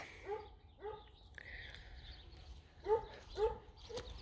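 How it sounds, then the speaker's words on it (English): Dogs barking outdoors, giving several separate barks and yips with short gaps between them. The barks are fairly faint and distant. "Dogs are out there barky"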